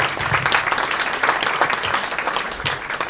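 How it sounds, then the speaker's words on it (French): An audience at a storytelling and Sufi tales event applauds for a guest, sustained dense clapping from a crowd, steady and fairly loud throughout. "Donc on l'applaudit bien fort déjà."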